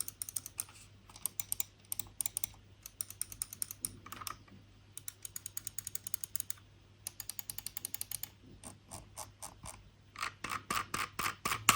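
Button clicks from a Logitech G502 and a G Pro X Superlight gaming mouse, a close, crisp run of rapid clicks in bursts with brief pauses, the G502 slightly rattly.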